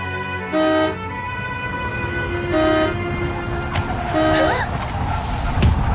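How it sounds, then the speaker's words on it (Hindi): A car horn sounds in three separate loud honks spaced over several seconds, each a steady tonal blast over continuous street noise. "कब से हॉर्न बजाए जा रहा हूं।"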